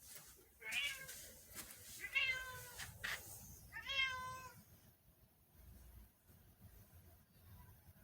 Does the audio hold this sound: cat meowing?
yes